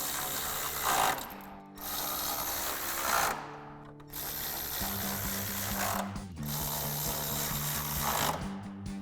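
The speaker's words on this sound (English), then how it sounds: "And now we can reinstall our 6 10mm bolts that we took out." Ratchet or power driver reinstalling 10mm bolts on the headlight housing of a 2020-2023 Chevrolet Silverado 2500, close mechanical whirring and clicking in several bursts with brief pauses between bolts.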